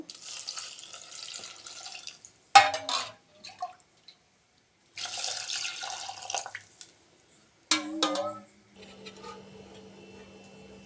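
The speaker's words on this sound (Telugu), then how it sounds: "నీళ్ళు అయితే వేద్దామండి ఇందులో" Water poured into a pot of pepper rasam with onion and green chillies, a sloshing pour in short bursts separated by pauses, close and moderately loud, with no talking.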